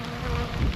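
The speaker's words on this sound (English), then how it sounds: "these bees are flying through it again." A close, steady insect buzz drones throughout, a dense hum of honey bees in flight during a winter hive cut-out, with a slight swell near the end.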